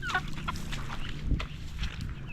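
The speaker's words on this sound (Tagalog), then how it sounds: "nandito pa yung tatlo tatlong inahin" Native chicken hens cluck softly in short bursts close by, scattered over a low background hum.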